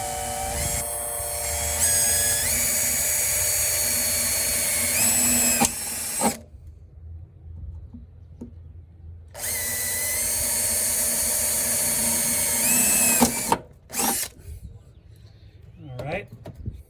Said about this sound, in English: go ahead and drill through the hole.